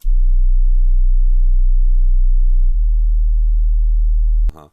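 A steady, very low sub-bass tone hums alone, loud and constant, shifting slightly in pitch partway through before cutting off.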